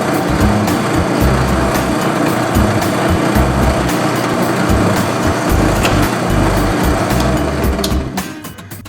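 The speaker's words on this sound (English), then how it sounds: "Rounding over the corners of the top with an 1/8 inch radius roundover bit will make this a" A router table with a 1/8 inch radius roundover bit rounds over the wooden corners of a sanding block top, giving a loud, steady, high whine and cutting noise that runs unbroken for about eight seconds before spinning down at the end.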